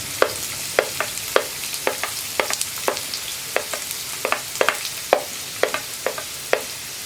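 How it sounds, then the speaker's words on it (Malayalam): Chopped onions and green chilies frying in oil in a pan, with a steady sizzle broken by regular scraping and stirring clicks, close and alone. "മസാലയ്ക്കായിട്ട് ഞാനൊരു പാൻ വെച്ചിട്ട് അതിലേക്ക് എണ്ണ ഒഴിച്ചിട്ടുണ്ട്. ഇതിലേക്ക് നമ്മൾ കട്ട് ചെയ്ത് വെച്ചിരിക്കുന്ന സവോള ചേർക്കാം."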